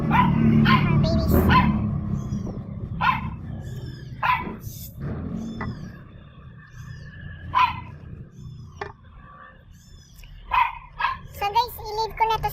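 Several pet dogs bark close by in repeated sharp bursts and yips, spread unevenly across the clip over a steady low hum.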